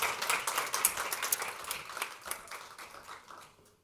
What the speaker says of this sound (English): a round of applause for our first finalist